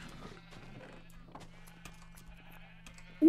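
Sheep in a Minecraft-style video game bleat faintly a few times over a low steady hum, with a louder sound at the very end.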